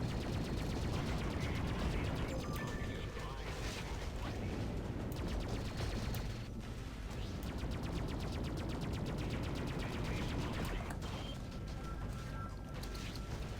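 Spaceship weapons firing in the space combat game Discovery Freelancer, a dense, continuous stream of rapid shots layered over a steady engine hum and background game music, holding at a constant loudness throughout.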